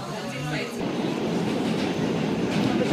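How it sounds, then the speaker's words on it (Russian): An old metro train car rolls along underground with a continuous broadband roar and rumble, steady and close, and a voice speaks faintly beneath the rail noise. "Вот такое убогое у нас метро."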